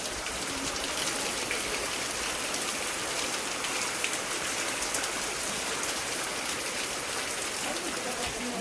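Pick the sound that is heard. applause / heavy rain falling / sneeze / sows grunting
heavy rain falling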